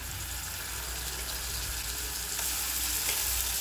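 Ginger garlic paste fries in hot coconut oil in a pan, giving a steady, dense sizzle that stays loud and close throughout without any voices.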